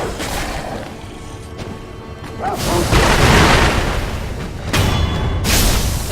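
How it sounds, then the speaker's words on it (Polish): Firecrackers go off in Sekiro: Shadows Die Twice, with a dense run of booming, crackling blasts layered over continuous game noise. After a brief lull, a second loud burst follows. "No widzicie, na zwierzęta to działa naprawdę genialnie. Te petardy, rewelka."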